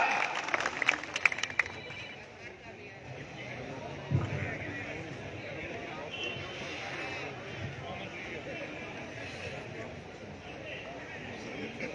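Crowd applause at a Congress party public rally in Fazilka, clapping to welcome a speaker to the microphone, with a burst of claps at the start fading into a broad murmur of crowd noise and babble.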